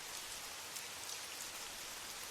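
Steady, soft rainfall patters continuously in Paris in the evening, a quiet even hiss of drops falling on a surface with no voices.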